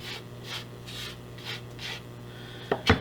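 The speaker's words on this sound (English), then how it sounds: "I started scraping with the blade of my knife instead of the back of it." A kitchen knife blade scrapes across a cutting board during tzatziki prep in a series of soft, rhythmic rasping strokes, close and moderately quiet, ending with a couple of sharper knocks.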